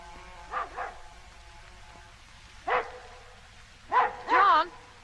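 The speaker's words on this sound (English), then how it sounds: "Dog's only got to yap a little and you think it's dingoes after the sheep." A dog barks and yaps in short bursts: a quick pair, a single bark, then a closer run of higher, whining yaps, all moderately loud against a quiet background.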